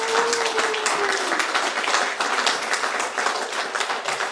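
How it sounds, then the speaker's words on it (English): An audience at a guest speaker event gives dense, steady applause for a few seconds, with a brief whistle early on. "So with that, give Jeff a round of applause"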